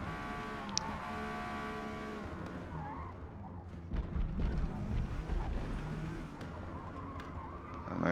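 Porsche 911 GT1 race car in Forza Motorsport at Spa on a qualifying lap, its engine droning steadily with rising and falling revs, and a brief scrub of tires midway.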